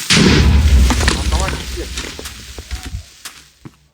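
Minecraft creeper explosion, a loud booming blast at the start that rumbles off into scattered crackling debris pops over a few seconds.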